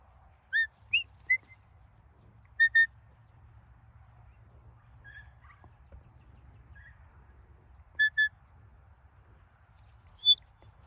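Shepherd's whistle commands to border collies herding goats ring out in short high-pitched bursts, single and paired blasts spaced irregularly across a quiet outdoor background.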